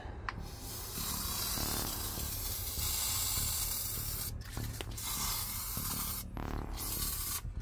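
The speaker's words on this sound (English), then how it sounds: "so we're going to spray it." Oxy Plus cleaner sprays inside a car cabin during an interior clean, a steady soft hiss of spraying continuing throughout, with a couple of brief breaks, close but quiet.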